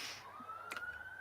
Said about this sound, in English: Police siren.